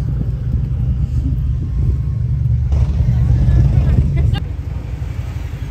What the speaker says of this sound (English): There's a lot of cars and traffic and stuff.